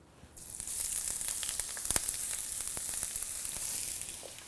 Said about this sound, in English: So our oil is hot. We are going to start cooking. Spring onions going in.